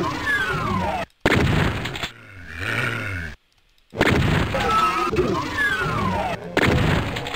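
Chaingunner gunfire in Doom TNT: Evilution, loud rapid bursts of automatic shots with booming impacts and monster growls, broken by short silent gaps.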